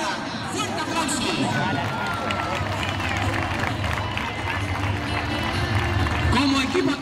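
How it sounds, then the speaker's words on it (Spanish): Loud, dense applause and crowd noise from a football club AD Taraguilla team presentation, a steady wash of clapping mixed with cheering and chattering voices throughout. "¡Fuerte aplauso!"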